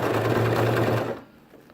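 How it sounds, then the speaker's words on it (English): A sewing machine stitches wool mittens in a steady, close, fairly loud whir for about a second, then stops and leaves only quiet room tone. "You have to pull this side back so it doesn't get caught in any of the sewing machine's moving parts."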